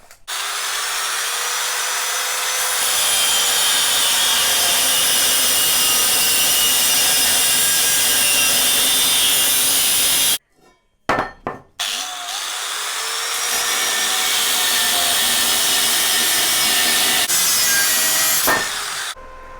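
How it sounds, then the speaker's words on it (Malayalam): A power saw cuts steadily through 1-inch square metal tube, a loud continuous grinding whine that briefly stops, then resumes for a second cut. "അതിനുശേഷം ഈ 1 ഇഞ്ചിൻ്റെ സ്ക്വയർ ട്യൂബിൽ നിന്ന് 1 അടി നീളമുള്ള 2 കഷ്ണം നമ്മൾ കട്ട് ചെയ്തെടുക്കണം"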